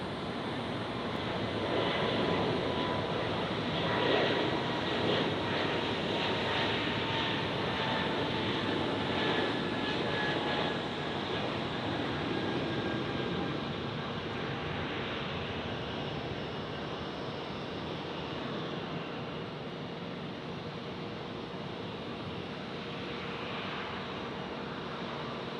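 Southwest airliner landing at Tampa International Airport, a continuous broad jet engine roar heard from a distance, steady and fairly faint throughout, slowly easing off toward the end.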